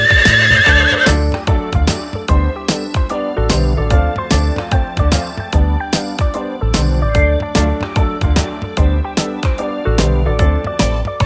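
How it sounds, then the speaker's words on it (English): A horse neighs within a cheerful kids' rhyme about farm animals, its whinny set against bouncy music with steady, rhythmic percussion hits throughout and no speech over it. "The horse in the stable goes neigh, neigh, neigh."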